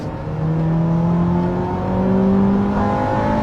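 A Honda Type R's naturally aspirated 1.6-litre VTEC engine, making 185 horsepower, revs hard under acceleration, with a steady rising whine that climbs in pitch and swells loud and close, alone without talk.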